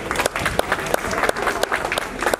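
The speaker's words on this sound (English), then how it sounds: "please give a big applause to our special guest" An audience at a BMW M4 CS launch event in London's Southbank applauds a racing driver special guest, with scattered distinct claps standing out over a busy crowd wash and a few voices mixed in.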